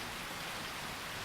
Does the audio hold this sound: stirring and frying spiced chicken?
no